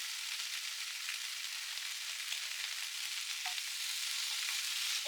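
Vegetables with mushrooms cooking in a pan, a soft, even high-pitched sizzle holding steady throughout, faint and close with no voices, ending in a brief sharp clink.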